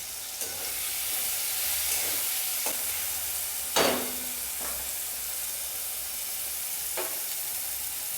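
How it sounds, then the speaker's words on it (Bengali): Capsicum for chilli paneer sizzling in a hot pan, a bright continuous hiss broken by a few short scraping stirs, close and loud with no talking. "এবারে ক্যাপসিকামগুলো দিয়ে দিলাম।"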